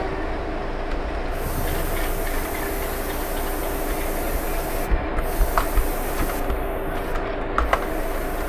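Diesel locomotive in a train simulator game, a WDM3A shunting at Vadodara Junction with dynamic brakes applied, producing a steady, loud rumbling drone with a faint hiss and occasional light clanks throughout.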